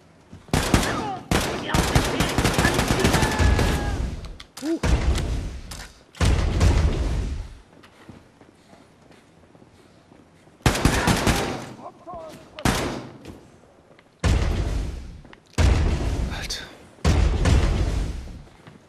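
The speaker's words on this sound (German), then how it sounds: "Kann der durchs Fenster schießen und ich nicht?" Gunfire bursts in the shooter game Wolfenstein II: The New Colossus, fired through a window, come as several loud, close bursts separated by short gaps. A voice speaks over some of them.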